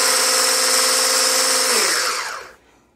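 An electric mixer with a whisk attachment whips aquafaba with a loud, steady high-pitched whirring that holds for over two seconds and then winds down to near silence, with no talk.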